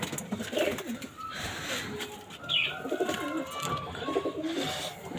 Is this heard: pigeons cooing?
yes